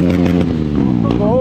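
Loud, steady engine drone of a motorcycle ridden with its exhaust removed, close by and continuous, with voices talking over it.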